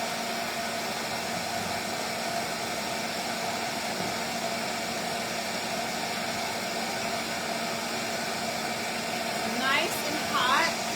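A heat tool warming oil pastels gives a steady, even blowing hiss throughout, with a brief louder flutter near the end.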